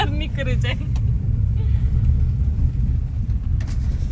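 A car rumbling slowly along a road flooded after heavy rain, engine and water noise low and steady throughout, with people talking over it near the start and end.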